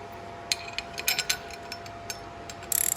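A ratchet tightening water pump bolts on an RB20 engine during a 300ZX swap gives a series of short, close metallic clicks in uneven bursts, ending in a quick rapid run of clicks.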